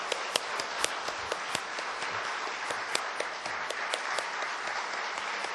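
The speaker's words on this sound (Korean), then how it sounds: "우리 임명장 수여할 때 뜨거운 박수로 격려해 주시기 바랍니다" Warm applause from a church congregation during an appointment ceremony at a worship service, steady crowd clapping with scattered sharper claps, sustained and fairly even throughout with no talk over it.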